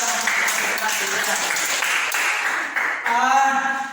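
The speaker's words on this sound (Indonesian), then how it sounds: "kita berikan aplaus untuk kelompok 2" A group of people applauds for presenting group 2 in a classroom discussion session, a brief burst of clapping heard alongside a voice talking over it, fairly close.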